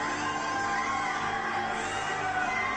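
A wrestling arena crowd roars and cheers through a wrestler's entrance, a thick continuous wall of voices with scattered whoops and yells, loud and unbroken.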